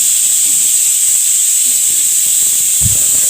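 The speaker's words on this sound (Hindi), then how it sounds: "कुकर में आलू रखे हुए हैं बॉईल करने के लिए, सीटी आने वाली है।" A pressure cooker boiling potatoes lets out a loud, steady, high hiss of escaping steam, heard close and unbroken throughout.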